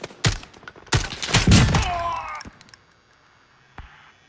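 Gunfire in Call of Duty Modern Warfare 2019, a Domination match on Arklov Peak: a few sharp, loud shots and a quick burst, then a fading tail and a faint distant pop, with no talking.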